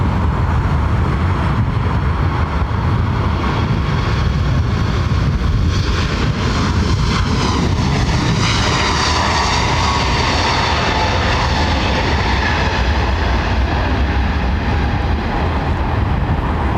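Airbus A321neo jetliner at London Heathrow Airport, a loud, continuous engine roar and rushing whine that swells in pitch midway as the aircraft passes fairly close, unbroken by voices.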